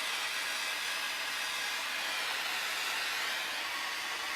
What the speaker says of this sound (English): Just burn the outside of it. Get a decent distance away from the blowtorch.